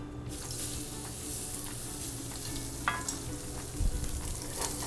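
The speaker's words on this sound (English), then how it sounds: "Shrimp, we want to get a little sear on them." Shrimp sear in canola oil in a hot sauté pan, giving a steady close broadband sizzle throughout with a few brief clinks and scrapes of the pan.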